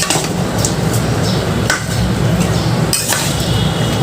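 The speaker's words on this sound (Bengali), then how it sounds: "এবার একটু ভালো করে নেড়ে চেড়ে নিচ্ছি" A jackfruit and beef curry is stirred in a small pan, with repeated metallic clinks and scrapes of a utensil against the pan over a continuous rough background.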